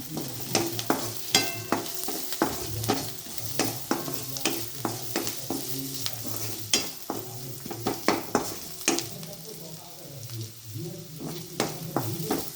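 Ingredients for flax seed chutney sautéed in a pan, a steady sizzle with repeated scraping and clinking of a spoon stirring against the pan, close and moderately quiet, without talking.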